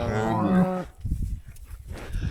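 A cow standing near her newborn calf gives one loud, close moo with a clear harmonic tone, then rough low snorting and shuffling noises follow.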